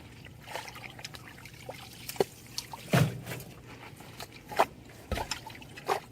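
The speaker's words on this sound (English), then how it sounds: "We brought it out this far and it's starting to drain really good. You can still see it flowing." Water drains through a trench dug across a flooded yard, giving soft trickles and a few sharper splashes and drips, faint and close, with no talking.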